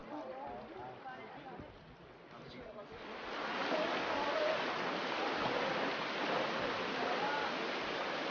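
Hikers wading through cold, knee-deep river water in Zion Narrows, a broad rushing wash that swells louder midway and holds steady, with voices speaking over it early on.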